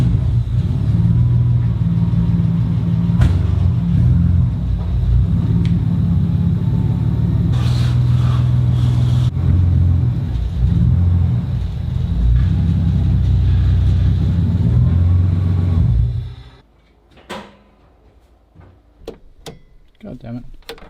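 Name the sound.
Nissan Skyline car driven backwards and forwards onto ramps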